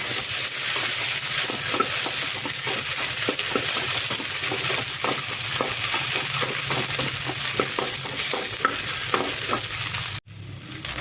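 Okra sautéed in hot oil in a home kitchen, steady close sizzling with repeated scraping taps of a spatula stirring the pan, continuous throughout with a brief dropout near the end.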